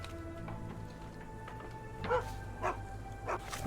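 Puppies give a few short, faint yips and barks at uneven intervals over a steady low background hum, in the video game Sherlock Holmes: The Awakened.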